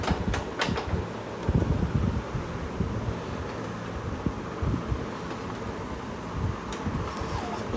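An Epson L1300 inkjet printer powers on and its printhead moves, producing a steady whirring motor hum with a few faint mechanical clicks and ticks near the start, close by and without talk.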